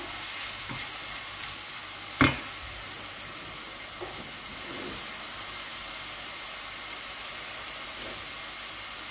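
Shrimp and Chinese noodles sear in a hot pan after a splash of vinegar, giving a steady close sizzle with a sharp burst of crackle near the start and faint stirring scrapes, no talking.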